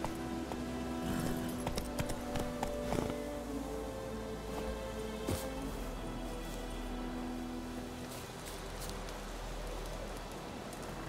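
Hoofbeats of Roach, Geralt's horse in The Witcher 3, clip-clop at a gallop along with soft rain-like ambience, a steady rhythmic patter of hooves at moderate distance with no talking.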